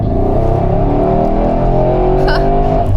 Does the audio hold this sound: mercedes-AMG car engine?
yes